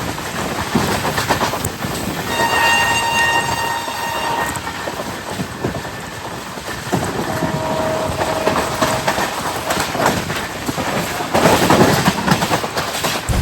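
The Tejas Express rushes along between Mumbai and Goa with a loud steady rumble and rattling wheels, its horn sounding early and again briefly later.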